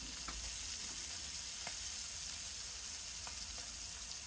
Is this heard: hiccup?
no